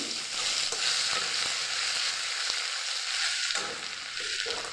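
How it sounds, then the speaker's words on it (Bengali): Chopped ginger hits hot oil with panch phoron for khichuri with peas and potatoes, giving a loud, continuous sizzle and crackle close by, broken by faint stirring scrapes. "এখানে আমার আদা কুচানো আছে আদা কুচানোটা দিয়ে দিচ্ছি"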